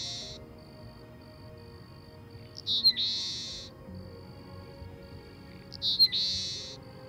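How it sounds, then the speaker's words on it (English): A Dusky Seaside Sparrow from Merritt Island, Florida, gives two short, buzzy, insect-like calls about three seconds apart, each a clear rasping burst over faint background hiss and a thin steady tone. "It also had a distinct call, which sounded like a buzz,"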